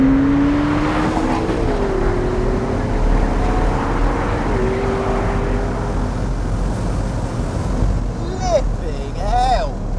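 A McLaren 650S Spider pulls hard in fourth gear from about 2,000 rpm at full throttle, its engine note rising steadily in pitch as it accelerates, loud and close, with a brief upshift-like dip and turbo whoosh near the end.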